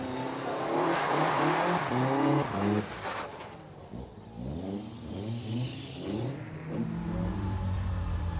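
A rally camera car at Knockhill revs hard from onboard, the engine climbing and dropping through repeated gear changes, loud and close, with a brief lull before accelerating again.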